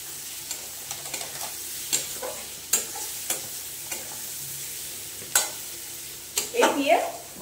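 Chicken seasoned with salt and turmeric stirred in a hot pan, soft sizzling under repeated spatula scrapes and clicks, with a louder burst of stirring near the end.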